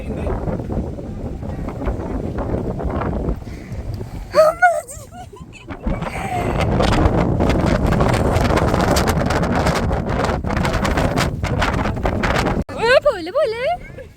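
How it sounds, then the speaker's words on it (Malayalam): Strong gusting wind buffets the microphone at Kunagalu Cave near Bangalore, a loud low rumbling roar rising and falling, with people talking and a voice heard in places. "കാറ്റടിക്കുന്നു"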